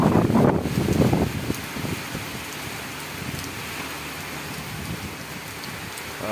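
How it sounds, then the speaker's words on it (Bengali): Heavy rain pours down steadily during a night-long storm, a dense, constant hiss of drops on surfaces with a few louder splashes at first, and no voices. "দেখেন কত সুন্দর মনোরম পরিবেশ, বৃষ্টি হচ্ছে।"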